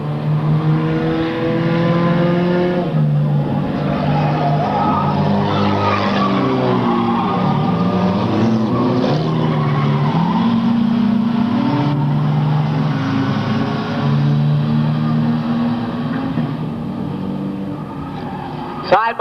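Stock cars race bumper to bumper on an oval track, their engines droning loud and continuous with rising and falling pitch and some tire squeal, while a commentator talks over the roar.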